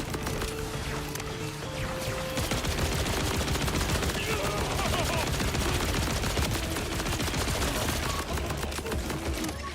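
Maliwan submachine gun firing in Borderlands 4, a dense unbroken stream of rapid shots with crackling impacts and game effects throughout, loud and continuous.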